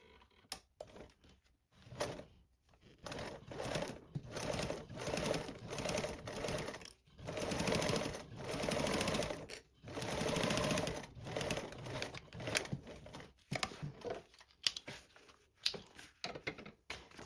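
A sewing machine top stitches with a 1/8 inch seam allowance. Close, rapid needle clatter comes in repeated bursts of a few seconds, with brief stops between runs and no talking.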